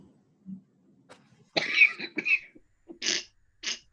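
Several coughs in a row, fairly close, with a few brief throat sounds between them in an otherwise quiet room.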